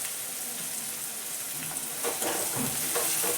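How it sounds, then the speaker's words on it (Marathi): Chopped onions frying in oil for poha after roasting peanuts, a steady close sizzle with a few stirring scrapes toward the end, no talking. "कांदा वगैरे भाजते मी आता"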